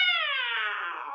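A voice imitates a cat's meow in a storytelling setting, giving one long, drawn-out, nasal meow that glides slowly downward in pitch, close and fairly loud, with no other sounds around it.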